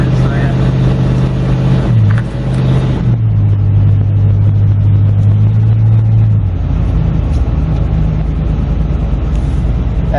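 A Land Rover engine running with no exhaust fitted, a loud, raw, close rumble that holds steady, dips briefly near the start, then settles to a lower idle, with voices talking over it.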